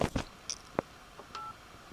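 Several short telephone keypad tones beep in quick succession, mixed with button clicks, ending on a brief steady tone. Close and moderately loud.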